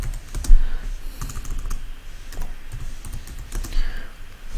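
Rapid keystrokes on a computer keyboard while entering LaTeX table code, a steady close patter of clicks with small bursts and pauses and no voices.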